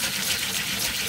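Warm water runs steadily from a tap for rinsing during a barber chair rust removal restoration, a continuous close splashing gush with no talking.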